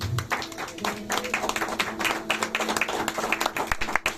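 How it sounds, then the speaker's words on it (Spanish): A church congregation claps during a sermon, uneven and scattered hand claps with some louder individual claps and faint voices mixed in, steady for several seconds. "le den un aplauso a Dios"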